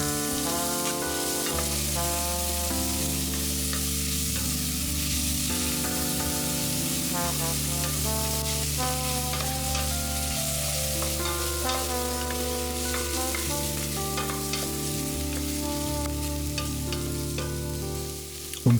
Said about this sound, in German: In einem Topf erhitze ich etwas Olivenöl, dann gebe ich die Zwiebelwürfel hinein.